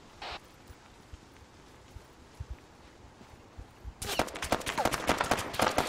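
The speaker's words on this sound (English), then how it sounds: "Shots fired, road, southeast." Rapid bursts of gunfire in ArmA, a military simulation shooter, erupt partway through after sparse distant pops, crackling loud and dense toward the end with no voices over it.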